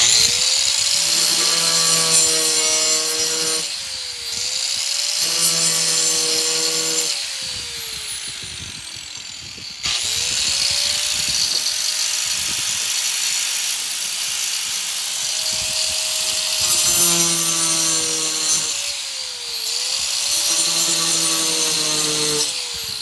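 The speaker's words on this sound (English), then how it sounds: "I'm gonna cut it down the middle with a grinder." A grinder bites through a rope clamp, its whine rising and falling in several loud cutting passes with brief pauses between them, close and alone.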